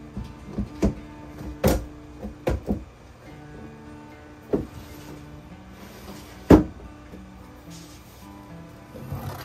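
A door is fitted onto a homemade cage, giving a series of close, sharp plastic clicks, snaps and knocks at irregular intervals, with one louder snap near the end, over faint room background.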